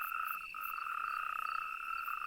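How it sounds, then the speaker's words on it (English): Natterjack toads calling in a wetland chorus, a steady, unbroken rattling trill with a second toad's higher trill layered on top, moderately close and continuous with no talk. "These are the smaller natterjack toads, the ones that have less attractive voices."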